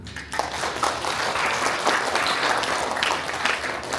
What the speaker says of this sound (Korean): 그분들께도 큰 박수 부탁드립니다.